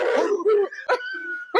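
A person's voice imitates a dog barking, giving a few short, loud bark-like bursts close to the mic, with laughter and chatter mixed in.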